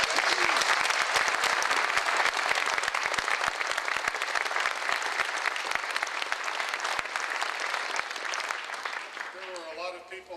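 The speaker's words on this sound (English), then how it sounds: "I think we owe our 2 guests a huge round of applause." A studio audience applauds two guests after a Dragon's Den interview in Toronto, with sustained, fairly close clapping and a voice coming in near the end.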